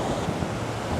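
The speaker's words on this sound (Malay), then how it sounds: "Tengok besar ombak dia." Ocean waves break on a beach with strong rip currents, giving a steady, loud wash of surf mixed with wind buffeting the microphone for about one second.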